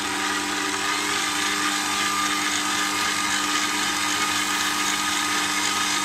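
Stand mixer kneading bread dough for a pot-baked loaf at low speed, a steady droning motor whir, close and even throughout with no talking.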